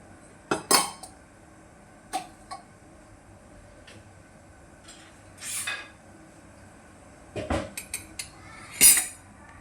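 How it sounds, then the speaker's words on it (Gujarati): A bowl set down in a home kitchen while making a corn snack, giving a few light clinks and clatters scattered among quiet pauses, close and fairly soft. "જો મેં એક બાઉલ મૂક્યું છે અને આપણે એમાં થોડું તેલ નાખીશું"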